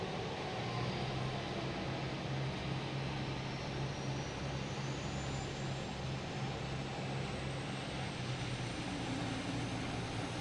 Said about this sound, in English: We have an Airbus A321 coming in from Atlanta